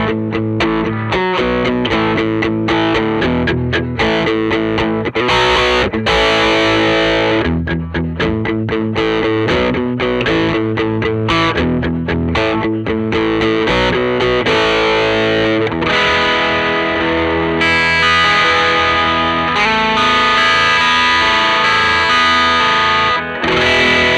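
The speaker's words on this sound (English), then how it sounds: "Now let's check out what a distorted tone might sound like with the same exact setup." Electric guitar played with a distorted tone through a speaker cabinet and captured by a microphone, a loud, sustained, saturated stream of chords and notes running continuously for over twenty seconds.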